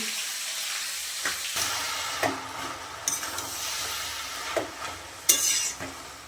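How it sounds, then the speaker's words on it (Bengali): Cabbage stir-fried in a pan with fish heads, steady sizzling broken by scraping stirs of a spatula and a few sharp clinks of utensils, close and fairly loud. "এখনো বাঁধাকপি কষাকষি চলছে মাছের মাথাগুলো দিয়ে দিয়েছি"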